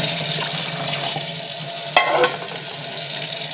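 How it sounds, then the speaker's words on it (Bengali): Water pours steadily into a pot of eggs, giving a continuous close splashing rush with a brief clunk partway through. "আরেকটু জল দিলে ভালো বোঝা যাবে পুরোটা ডুবছে কিনা"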